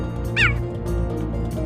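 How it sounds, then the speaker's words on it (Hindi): A cheetah gives a single short, high, bird-like chirp, heard once near the start over a low, steady background hum. "तो ये तो साफ हो गया कि चीते दहाड़ते नहीं, बल्कि उनकी आवाज कुछ ऐसी होती है।"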